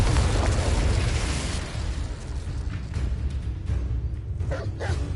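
An Incendio fire spell cast in Hogwarts Legacy makes a bursting whoosh of flame that booms loudly, then crackles and fades into scattered pops and game effects.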